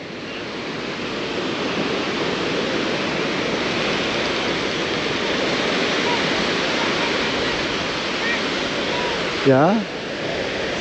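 Ocean surf at Kuta Beach, Bali, a steady broad roar of breaking waves that stays loud and continuous, with a brief spoken word near the end.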